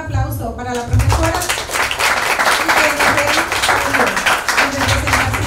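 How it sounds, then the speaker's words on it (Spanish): Audience applause at a book presentation, a steady wash of clapping from a crowd that fills the whole moment, with a voice speaking over it near the start. "Solicito un aplauso para la profesora"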